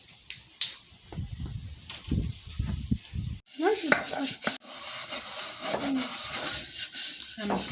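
Butter is rubbed around a cake pan to grease it, giving close, soft rubbing and scraping strokes with a few light knocks of the pan, and a person talks in between.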